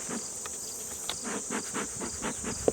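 Bees buzzing around a Carniolan honeybee hive, a steady close hum with faint pulsing and a brief tap near the end, no voices.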